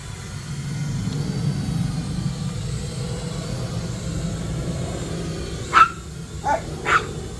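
A few dogs bark near a small, inexpensive flying drone outdoors, with three short sharp barks near the end over a steady low drone hum and wind rumble.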